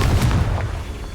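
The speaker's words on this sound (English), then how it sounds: "you just gotta blow it up with Fringo" A Confringo spell explodes in Hogwarts Legacy with one heavy, booming blast that rumbles and fades over about a second.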